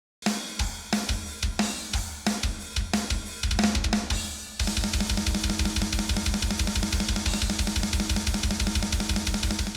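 Loud black metal drums with fast double-kick and crashing cymbals, first in choppy hits, then a dense, driving blast of continuous rapid beats.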